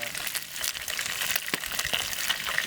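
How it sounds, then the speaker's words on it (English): Fish frying in a hot pan at a campsite in Idaho's White Cloud Mountains near Hatchet Lake, a constant crackling sizzle with sharp pops, close and steady, no talking. "Got some fish going here, got some fish frying"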